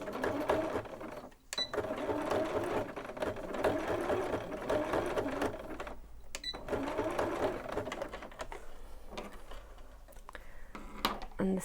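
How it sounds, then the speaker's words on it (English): A sewing machine stitches back over existing buttonhole stitches to lock them, running in a steady rapid whir with a couple of brief pauses between runs. "I want to sew over the stitches that I've already done just to secure them in place"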